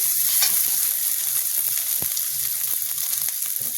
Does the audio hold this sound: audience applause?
no